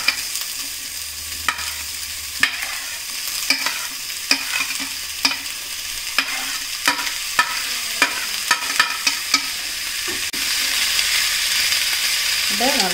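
Chopped peperomia (mashithandu) leaves and onion frying with spice paste in a pan for thoran, with a constant sizzle and frequent sharp taps and scrapes of a spoon stirring against the pan, close up and with no speech.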